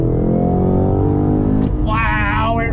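A 2022 Cadillac CT5-V Blackwing sport sedan at full throttle, its engine roaring loudly with rising pitch, then a quick shift and a fresh climb, heard from the cabin.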